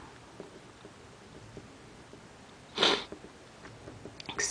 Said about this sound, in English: Excuse the sniffles.